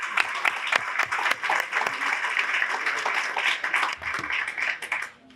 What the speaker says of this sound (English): I want to give Brooke one more round of applause.